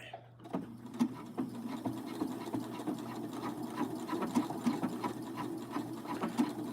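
A sewing machine runs steadily, stitching slowly along a fabric hem with a continuous mechanical hum and rapid needle ticks. It starts after a brief pause and carries on close and moderately loud, with no talk over it.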